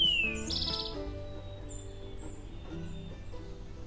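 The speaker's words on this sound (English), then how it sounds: "you'll have to listen closely to hear birds or walk further away from the noise" Wild birds chirp and tweet in a nature preserve beside a highway, with several bright calls rising over a low, constant traffic rumble in the background.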